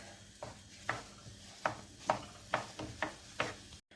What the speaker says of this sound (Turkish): Tavamı ocağıma koyuyorum. Bu şekilde güzel kavuracağım içimi.